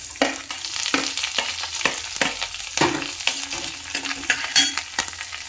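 Peanuts, green chilies and onions fry and sizzle in a pan for carrot semiya upma, with a steady hiss broken by repeated scraping stirs of a spatula, close and loud with no voices.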